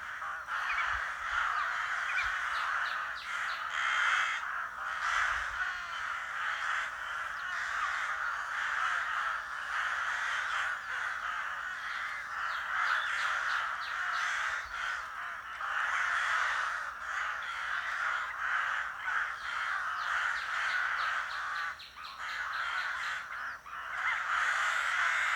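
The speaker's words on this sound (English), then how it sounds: "Crows showed incredible unity. Dozens of them arrived, flapping, screaming," A large flock of crows caws and screams nonstop, many harsh calls overlapping into a dense, loud chorus that continues steadily throughout with no voices.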